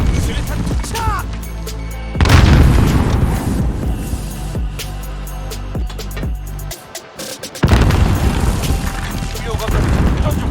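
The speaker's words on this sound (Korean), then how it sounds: "수류탄 투척!" Grenade blasts and heavy gunfire in Call of Duty: Modern Warfare, with loud booms and dense continuous battle noise, a brief drop near the end, then the clamor resumes; in-game voice callouts are heard.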